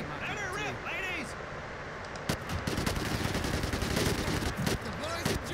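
A machine gun fires in rapid sustained bursts in the Medal of Honor video game, loud and close, with shouting voices over the gunfire.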